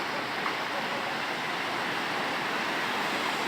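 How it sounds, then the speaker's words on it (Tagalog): Big ocean waves crash and roll at a bay in bad weather, a steady loud wash of surf mixed with gusting wind buffeting the microphone throughout, with no pause. "masama na naman ang panahon. Lalaki na naman ang alon."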